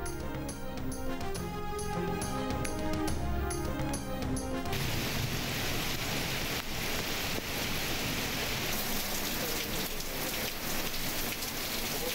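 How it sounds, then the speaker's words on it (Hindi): Heavy torrential overnight rain in Lahore pours as a dense, loud, continuous roar that runs unbroken throughout, after a brief stretch of music at the start, with no talk. "लाहौर और गिरदोनवाह में रात मूसलाधार बारिश"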